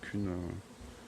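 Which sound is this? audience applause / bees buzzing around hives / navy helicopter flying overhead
bees buzzing around hives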